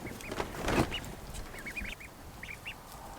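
Cayuga ducklings kept warm under a heat lamp give a series of short, high peeping calls, some in quick pairs and runs, close by over faint background noise.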